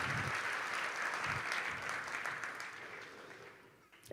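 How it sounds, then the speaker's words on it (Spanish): A church congregation applauds together during a Spanish-language sermon, a steady broad clatter of clapping that thins and fades out toward the end. "démosle un aplauso al Dios de las promesas"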